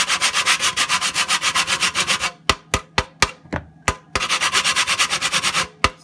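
Whole nutmeg grated by hand, a rapid run of rhythmic rasping strokes, a pause with a few separate scrapes, then another quick burst of grating, close and loud with no talk.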